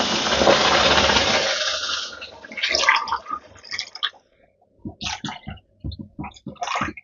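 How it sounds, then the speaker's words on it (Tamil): Water pours steadily onto rice from the same tumbler used to measure it, a close rushing stream for about two seconds, followed by scattered splashes and clinks. "எந்த டம்ளரில் எடுத்தோமோ அதே இப்போ தண்ணி ஊற்றணும் ரெண்டு தண்ணி"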